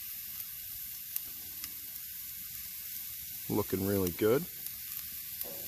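Venison heart searing on a grill gives off a steady, soft sizzle with faint crackles throughout, and someone speaks briefly over it near the end.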